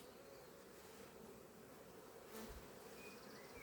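Steady, dense buzzing of many honeybees swarming close by around an open ten-frame hive full of bees, continuous throughout with no voices.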